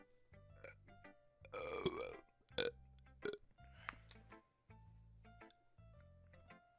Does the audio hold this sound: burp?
yes